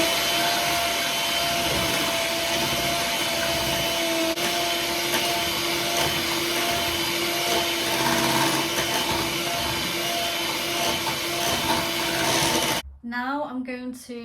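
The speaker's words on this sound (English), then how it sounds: "whisk it together until it goes like really glossy" Eggs being whisked into brownie batter in a home kitchen, heard as a steady, loud mechanical whirr like an electric mixer running continuously, which cuts off abruptly near the end.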